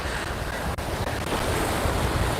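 Sea waves wash onto the beach at Can Picafort, Mallorca, a steady broadband surf roar with wind buffeting the microphone. One brief dip interrupts it before the wash continues.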